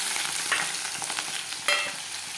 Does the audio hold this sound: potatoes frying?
yes